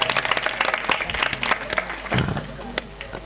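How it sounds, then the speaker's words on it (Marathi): Loud crowd clapping at a live Marathi bharud folk performance, dense and uneven with sharp individual claps, while someone talks over it. "एकदा जोरदार टाळी वाजवा."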